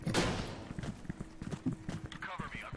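Footsteps in the Minecraft video game, a quick run of irregular clopping taps close by, mixed with game noise and heard under people talking.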